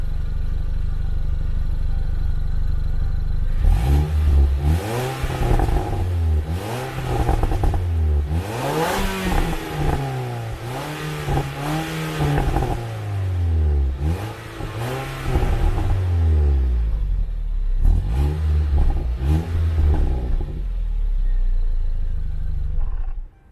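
A Range Rover Evoque SUV engine revs repeatedly, pitch swooping up and falling back in a series of loud, deep pulls over a steady idle, then cuts off.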